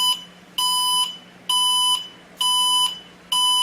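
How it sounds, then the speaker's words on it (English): A Moujen MST signal tower buzzer unit on its high-frequency 102-decibel setting sounds sharp, piercing electronic beeps, each about half a second long, repeating steadily at regular intervals, loud and close. "There are 2 types of settings for the buzzer unit. These are high frequency at 102 decibels"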